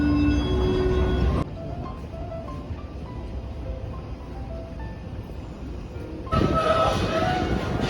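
A train rumbles steadily past Salesforce Park, a rooftop park in San Francisco, loud at first, then dimmer and muffled for several seconds before swelling close again.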